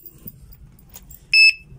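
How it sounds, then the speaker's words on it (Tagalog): A Chinese anti-theft alarm lock, rated at 110 dB, lets out one short, loud, piercing electronic beep near the end, after quiet handling noises. "Ayan yung alarm niya."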